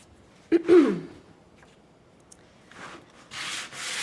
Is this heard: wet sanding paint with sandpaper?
yes